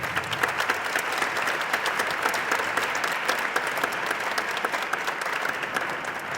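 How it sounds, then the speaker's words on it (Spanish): An audience at a university honorary doctorate ceremony in Rosario breaks into sustained applause, a dense, steady crackle of many hands clapping at an even level throughout, heard from a moderate distance. "pueden aplaudir, claro"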